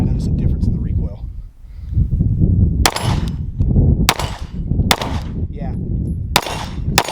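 Sig P320 pistol fitted with a Go Gun gas pedal firing four sharp, loud shots spaced about a second apart outdoors, with a brief spoken word between.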